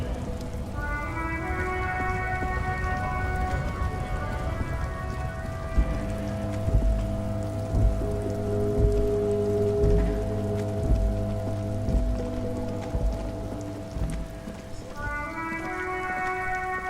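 Steady soft rain patters in the video game Disco Elysium beneath sustained, layered synth music tones, with no voices.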